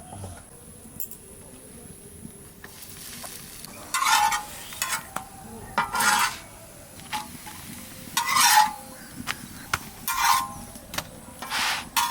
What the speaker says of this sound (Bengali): এই বড় তাওয়াতে একসঙ্গে অনেকগুলো ভাজা যাচ্ছে